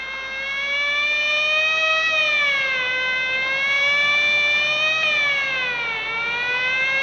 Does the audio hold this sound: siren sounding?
yes